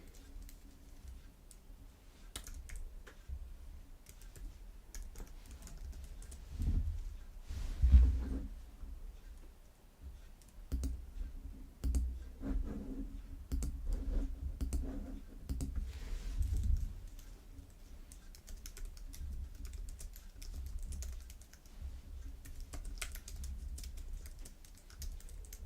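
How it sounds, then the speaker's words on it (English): Someone types into a chat on a computer keyboard: soft, quiet, irregular key clicks that run steadily throughout. "I'm actually gonna type into the chat now"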